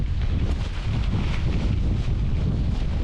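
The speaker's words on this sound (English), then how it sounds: "Really windy, really wet, torrential rain." Strong gusting wind with torrential rain roars and buffets the microphone in a constant low rumble on a Scottish Highlands hike, with no voices.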